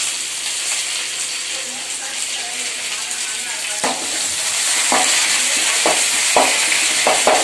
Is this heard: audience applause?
no